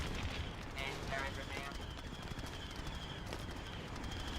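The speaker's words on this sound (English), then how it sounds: "Instead of his shotgun from the base game, he gets a mortar launcher, like the Imperial officers would have." In Star Wars Battlefront II (2005), an engineer's mortar launcher fires amid a battle, with a few faint, scattered blasts and rumbling gunfire sitting low under a constant haze of combat noise.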